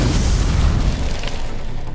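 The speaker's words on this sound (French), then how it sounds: "Soudain, une explosion." A deep, rumbling explosion booms loudly, then trails off into a fading low roar over about two seconds, with no voices.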